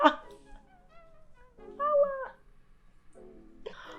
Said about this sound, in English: You will see my cat right now.